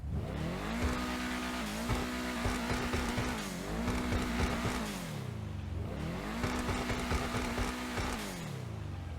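An Obey Tailgater S sports car in GTA Online revs repeatedly, each burst climbing in pitch and then dropping back in a rhythmic accelerating pattern, loud and alone.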